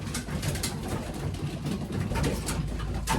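Pigeons feed nearby and let out soft, low coos now and then against a faint steady background hum, with no one speaking.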